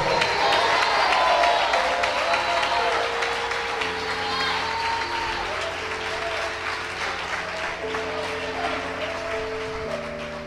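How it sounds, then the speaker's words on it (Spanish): A congregation applauds in a church during a pastor's sermon, a broad steady clapping that fills the space while voices and sustained background tones carry on underneath. "Esos aplausos están como obligados."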